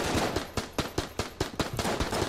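Rapid gunfire from the video game Enter The Gungeon, a steady burst of about a dozen evenly spaced, close, loud shots with no talk.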